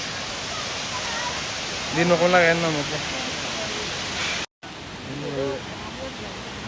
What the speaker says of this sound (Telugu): ఈ వాటర్ ఫాల్స్ పేరు కొత్తపల్లి వాటర్ ఫాల్స్